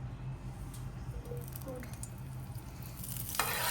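Oil and butter sizzle steadily in a pan on a tawa, a close, continuous crackling hiss with a sharper spatter near the end.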